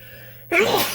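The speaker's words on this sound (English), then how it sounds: "Sneeze, sneeze." A single sharp human sneeze, close and loud, bursts out after a moment of quiet while someone works on wiring an arcade machine.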